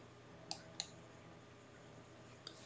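Two quick, faint mouse clicks land close together at a Continue button, followed by a single faint click a moment later, all against a quiet room hum.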